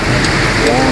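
Rain falling steadily over a flooding river during a downpour, a dense continuous hiss of drops close by with a faint voice murmuring underneath.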